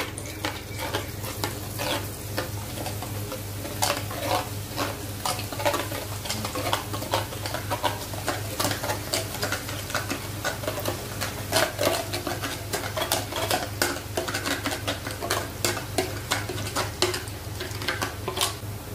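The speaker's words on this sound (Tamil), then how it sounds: "மாதிரி எண்ணெயில் போட்டு ஒரு 5 மினிட்ஸ் அது குக் ஆனவொடனே எடுத்து ஒரு பாத்திரத்தில் போட்டு வச்சுக்கலாம்." Gram flour batter dropping into hot oil as boondi, a steady dense sizzle and crackle that runs unbroken throughout, with faint ticks from a ladle and metal utensils and no voices.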